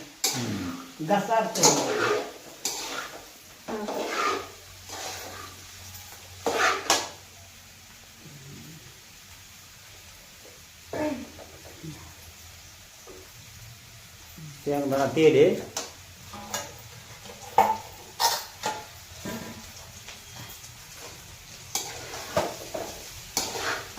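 Khichdi stirred in a big kadhai: repeated scraping and clanking strokes come in bursts over a faint background, with people talking intermittently.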